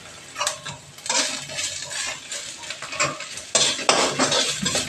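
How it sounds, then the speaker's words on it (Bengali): Mint leaves stirred and lightly fried in a pan with a spoon while making chicken kofta curry, a soft sizzle under repeated scraping and clinking strokes of the utensil against the pan, close and steady. "আর পুদিনা পাতা একটু হালকা ভেজে নেব।"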